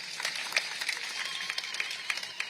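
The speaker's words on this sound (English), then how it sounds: "Can we give them a round of applause?" A crowd at a cement plant groundbreaking ceremony gives a round of applause, continuous dense clapping from many people heard at a distance, steady throughout without speech.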